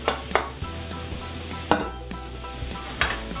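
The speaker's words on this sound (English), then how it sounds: "Melt the butter a little. And dump the leeks in." Leeks sauté in melted butter in a pan with a soft, even sizzle, broken by several clear clanks and scrapes as they are stirred. No one speaks.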